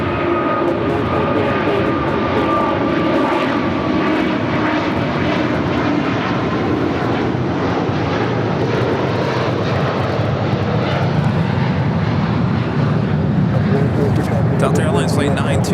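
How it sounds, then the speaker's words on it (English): A Delta Boeing 737-800 airliner arriving at LAX from Nashville roars loudly and steadily as it passes close by, with the engine noise swelling slightly toward the end. "Delta Airlines Flight 922 coming in from Nashville, Tennessee in the 737-800"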